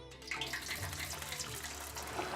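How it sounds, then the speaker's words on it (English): Ghee bubbling in a pan over a medium flame as potatoes for cauliflower potatoes begin to fry, giving a steady, even hissing sizzle with no talk. "So you can hear it bubbling up."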